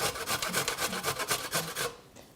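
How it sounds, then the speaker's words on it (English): Rhythmic rasping strokes of fresh turmeric root, skin left on, being grated, about a dozen quick back-and-forth scrapes close up before stopping. "I like to grate it, I just leave the skin on it and we just grate it up."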